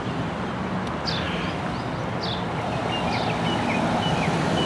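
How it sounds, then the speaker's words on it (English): Birds sing in a small garden oasis, a few separate high chirps standing out over a steady, wind-like rush of background noise. "listen to the birds."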